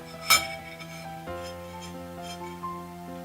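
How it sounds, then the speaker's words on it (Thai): Metal spoon and fork set down at a restaurant table setting, giving one sharp clink followed by a few softer taps and scrapes, close by with no talking. "แล้วก็จะวางช้อนด้วย ช้อนจะวางข้างขวา ช้อนส้อม จะวางอยู่ซ้ายมือแบบนี้นะคะ"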